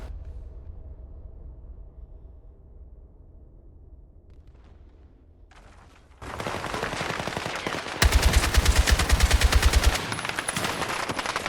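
Heavy bursts from a .50 caliber turret machine gun in the video game Battlefield 6 open up after a quiet start, a loud, rapid continuous rattle that grows more intense toward the end.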